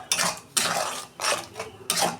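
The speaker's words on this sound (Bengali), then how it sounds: "এটা আমি ভালো করে কষাবো 2 মিনিট।" Turmeric, cumin, coriander and salt are stirred in a pan for a mango fish curry, with a few loud, scraping strokes of a spoon against the metal separated by brief pauses, close and without talk.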